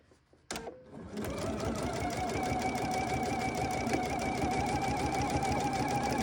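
A sewing machine stitching fabric, starting with a click and then settling into a steady, fast, even mechanical whir that runs continuously at close range with no talk.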